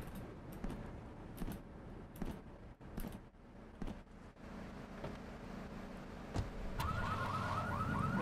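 A car alarm sounds in Grand Theft Auto III, its repeating electronic whoops rising and falling loudly near the end of the clip, over steady in-game engine rumble and scattered impact thumps.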